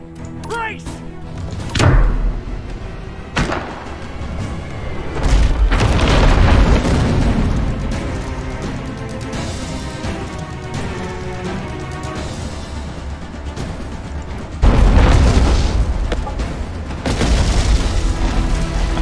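Cannon broadsides in the pirate ship game Abandon Ship land as deep booming blasts, a few heavy thuds spread across the stretch with rumbling swells between them, loud and close.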